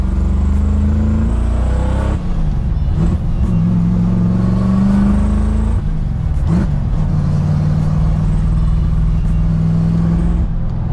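An old Ford Maverick's engine runs loud and close throughout, idling roughly with uneven surges and repeated revs rising and falling.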